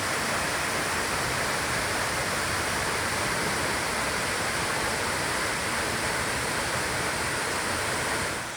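Rushing water from waterfalls along a hiking trail, the falls draining back into the ground near a cave; a steady, dense broadband roar holds at an even level throughout without pause.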